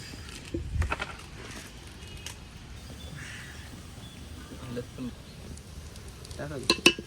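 A soft, steady sizzle of whole spices frying with browned onions in a pan over an outdoor fire, with a few scrapes and clinks and a bird calling faintly in the background.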